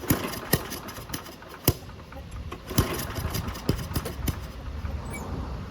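An old vintage lawn mower engine, suspected of needing its carburetor cleaned, is pulled over and pops and sputters irregularly with sharp, uneven bangs rather than running smoothly, close and moderately loud over a low background hum.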